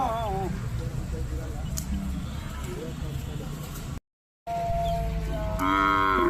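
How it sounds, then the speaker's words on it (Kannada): Cattle low at the Badavanahalli cattle fair on its opening day. Long, deep moos rise out of a busy crowd, with one loud moo at the end, while people chat nearby and the sound cuts out briefly. "ಬಡವನಹಳ್ಳಿ ದನಗಳ ಜಾತ್ರೆ ಆರಂಭ ಆಗಿದೆ"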